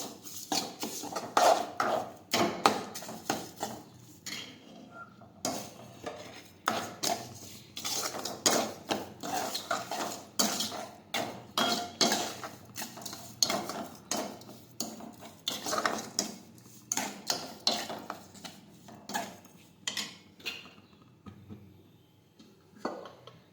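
A metal spoon scrapes and clanks steadily against a pot while spices are mixed with lemon juice for an urad dal curry, with repeated close, busy stirring strokes over about twenty seconds and no talking.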